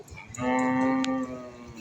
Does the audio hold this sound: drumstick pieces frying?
no